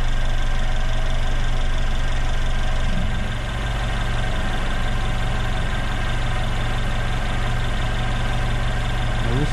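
Car engine idling steadily during a battery charging test, a constant low rumble with even vibration, close and loud, a brief dip in tone partway through and no talk.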